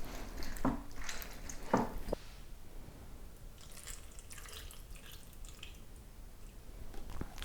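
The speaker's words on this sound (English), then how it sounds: "Actually, I'm gonna get my lemon juicer" A lemon is pressed in a hand lemon juicer, making a few quiet wet squelches and drips up close, then soft, faint squishing.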